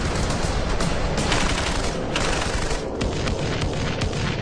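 A Dushka 50 caliber heavy machine gun fires in a loud, continuous, dense barrage of booming shots, filling the whole stretch with harsh, sustained gunfire.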